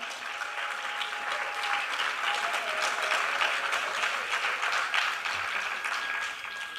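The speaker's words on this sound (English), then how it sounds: "They deserve an applause." Audience applause for the organizers of a Bharatanatyam arangetram dance evening: a steady, moderately loud wash of many hands clapping that holds evenly for several seconds, with no speech over it.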